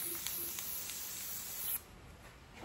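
Spray paint misting onto a picture frame, a steady close hiss that runs continuously before cutting off abruptly, leaving a softer hiss behind.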